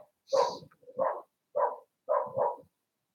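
Neighbours' dogs bark in four or five short, separate yelps spaced about half a second apart, clear and moderately close with silence between them.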